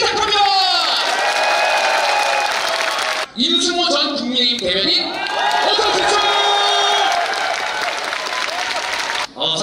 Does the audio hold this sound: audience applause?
yes